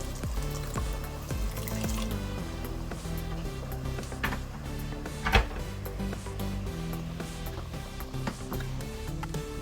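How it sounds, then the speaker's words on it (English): Water is poured into a cooking pan with half-cooked chicken for an Alfredo pasta sauce, a steady splashing hiss with a few light clinks. "So I'm just gonna add a teeny bit of water,"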